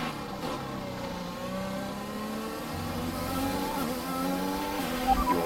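An F1 race car engine from the F1 2021 video game revs steadily at high pitch, with gear changes shifting the tone, loud and continuous with no talk.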